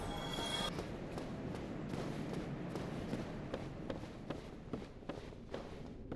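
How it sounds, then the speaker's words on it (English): Footsteps of an enemy in the video game Dark Souls, a steady run of soft thuds and scuffs over a dense, rumbling game soundscape, fairly close and continuous, with no talk. "Let's say I hear his footsteps."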